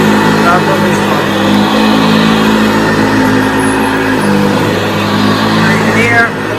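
An early-1970s Hoover Senior upright vacuum cleaner runs steadily, with a loud, continuous motor drone and a faint whine from a worn bearing.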